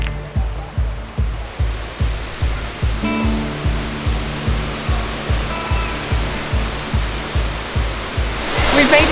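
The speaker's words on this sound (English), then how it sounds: "On to the White Lady waterfall." Rushing water of the White Lady waterfall in Lydford Gorge, Dartmoor National Park, roars as a steady loud wash under a regular pulsing thump from walking or the recorder's handling, with no talk.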